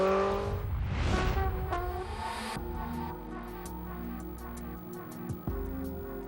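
A race car in Gran Turismo 4 roars and then brakes hard, its engine note sweeping up before dropping through downshifts to a lower idle-like hum, with brief tire squeal and mechanical clicks and no speech.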